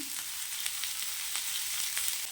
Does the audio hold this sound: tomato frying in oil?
yes